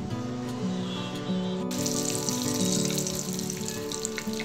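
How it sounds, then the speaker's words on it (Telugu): Boiled eggs frying in oil in a pan for egg dum biryani, a steady wet sizzle and crackle running throughout with background music and no talk. "ఎగ్స్ మొత్తం ఈ కలర్ వచ్చే వరకు బాగా ఫ్రై చేసుకోవాలి"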